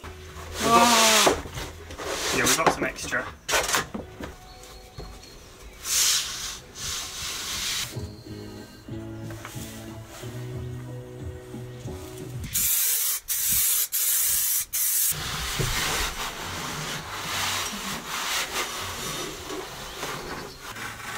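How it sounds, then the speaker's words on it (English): Hand sanding of a wooden board inside a Land Rover Defender camper conversion, steady scraping and rubbing strokes with intermittent pauses and knocks, close and fairly loud throughout. "we just need to like sand off a little bit just so that this bottom board sits a little bit flatter"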